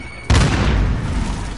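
An enemy cruise missile strike in a shooter game lands with one sudden loud boom, then rumbles on in a dense, heavy roar of debris and echo.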